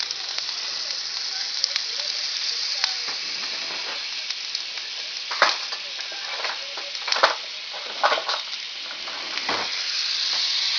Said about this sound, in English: we're going to add the oil and the butter